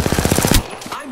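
Automatic gunfire in Apex Legends, a fast burst of about ten close, loud shots in steady rhythm that cuts off abruptly into quieter game sounds.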